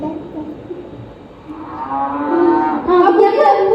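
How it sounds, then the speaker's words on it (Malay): Cow mooing, a single drawn-out low moo that rises and swells louder toward the end, close and clear with no talk over it. "Bunyi apa? Lembu."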